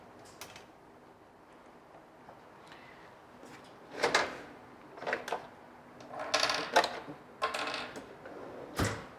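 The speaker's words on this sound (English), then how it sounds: "So I'll connect all the ports, port 1 to the manifold." Pneumatic tubing pushed into the ports of an air manifold on a training rig produces scattered close clicks, snaps and plastic rustles in uneven bursts, busiest in the second half.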